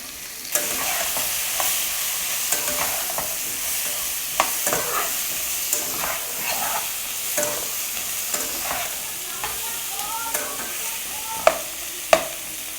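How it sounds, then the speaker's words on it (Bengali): Green banana, potato and onion fry in a pan with a soft, constant sizzle broken by repeated scraping and clicking stirs, growing sharper near the end. "আমার কাঁচকলা আলু পেঁয়াজটা ভাজা হয়ে গেছে"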